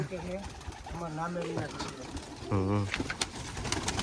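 Several low, throaty coos from Kaldum pigeons arrive in short bursts with gaps between them. Background chatter and faint clinks continue underneath.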